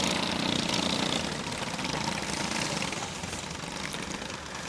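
Micro sprint race cars roll out onto the dirt oval at Ohsweken Speedway for a 15-lap feature, their engines making a loud, steady drone that eases slightly after the first second and continues without talk.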